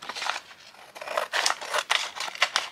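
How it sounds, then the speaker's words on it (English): Scissors cut out a paper journal card in a crafting session, a close, steady run of crisp snipping and rasping strokes with no talk over it. "Let's cut this one out"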